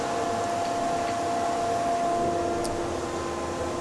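A wood lathe spinning a small wand while a tiny tenon is turned on its end, a steady whirring drone with a faint tonal hum and a brief light tick of the tool near the end.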